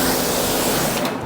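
Water spray rinsing the rims of a ceramic-coated car, a loud, steady, close hiss of water that fades slightly at the end.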